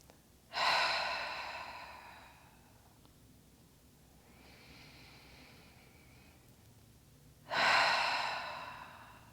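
Slow, deep breathing during a yoga stretch: two loud, close inhalations roughly seven seconds apart, with a softer, longer breath between them in a quiet room.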